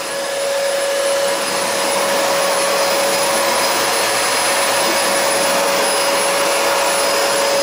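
A Fantom vacuum cleaner runs in hard floor mode with the brush roll switched off, a loud, close, steady motor roar with a constant whine throughout.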